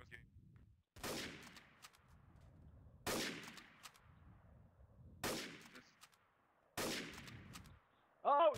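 Four loud bursts of video game gunfire crack out about two seconds apart, each fading quickly, over a quiet background with brief faint voice-like murmurs in between.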